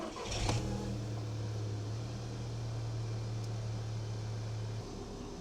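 A car engine, just fitted with new spark plugs, turns over with a brief burst, then settles into a steady, low idling rumble without misfiring for several seconds before cutting off.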